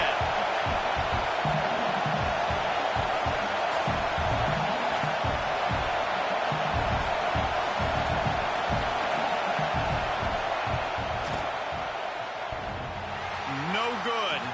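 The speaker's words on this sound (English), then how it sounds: "This crowd trying to do its part to get inside the kicker's head." A football stadium crowd roars steadily and loudly during a field goal attempt, a continuous broad wall of noise that barely dips, with a commentator talking over it.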